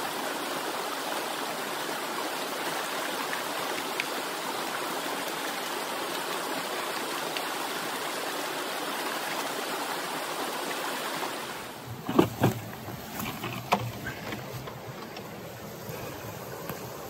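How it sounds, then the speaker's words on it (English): A creek flowing at a gold prospecting site makes a steady, close rushing wash of water. It fades out near the end, leaving quieter scattered knocks and handling sounds. "This creek kind of flattens out down further downstream than I'd like to check out today anyway."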